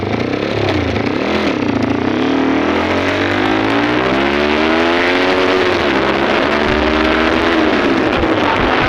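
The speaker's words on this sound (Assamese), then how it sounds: "বাইকখন আৱাজটো এটা শুনাই দে" A motorcycle engine drones loudly and continuously, its pitch climbing and settling as the bike rides along with wind noise.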